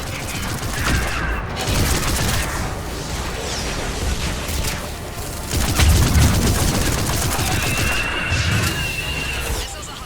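Missile strikes and rapid gunfire in a Mass Effect 3 battle, dense overlapping blasts, crashes and bursts of automatic fire rumbling continuously, with a few low booms standing out and bits of voice mixed in.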